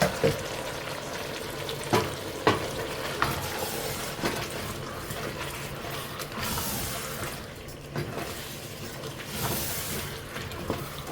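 Potatoes fry in a pan for a homemade macaroni dish, giving a steady, soft sizzle throughout with occasional stirring clinks and scrapes.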